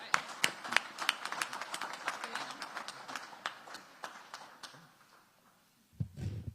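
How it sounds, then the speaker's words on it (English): An audience at a Back to School event with DC Mayor Muriel Bowser applauds the education team, giving a round of crisp, scattered claps that thin out and fade to near silence before a voice begins. "one more round of applause for this great team that's delivered this great edition"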